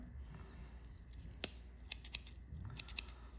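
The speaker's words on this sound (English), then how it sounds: "you have your pair of scissors, right?" A few sharp metallic snips from the scissors of a Victorinox Swiss Army knife, close and crisp, spaced irregularly over a quiet background.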